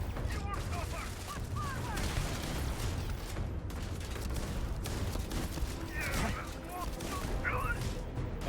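Gunfire from Starfield: Shattered Space fills a busy firefight, with bursts of shots and booms over constant rumble and scattered electronic chirps, while a voice speaks now and then.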